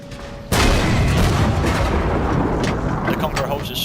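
Heavy tank cannon and artillery fire during a World of Tanks battle on the Winterberg map: a loud sudden blast starts a dense, sustained roar of gunfire and explosions that rumbles on for several seconds.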